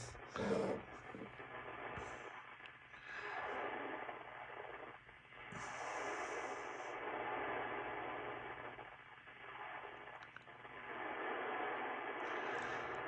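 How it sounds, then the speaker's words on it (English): Steady hiss of static from a Ten Tec Omni 6 amateur radio receiver tuned near 20 MHz, a continuous broadband rush with swelling and fading bursts and faint tonal blips, no voices. "Lots of static there."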